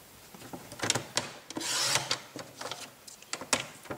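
Paper being cut to size for a handmade star card: a run of short, dry scraping and slicing strokes, close and fairly quiet, with one longer rasping pass partway through and no talking.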